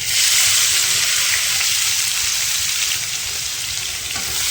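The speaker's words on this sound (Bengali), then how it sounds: "পেঁয়াজগুলো ভালো করে ভেজে নেব।" Chopped onions fry with whole spices in hot oil in a pan, a loud, steady close sizzle that holds evenly throughout with faint stirring texture underneath.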